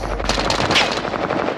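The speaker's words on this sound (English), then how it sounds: "whoever's shooting that" Rapid automatic machine gun fire in a Call of Duty: Modern Warfare online match, loud and close, rattling in dense back-to-back bursts with no speech over it.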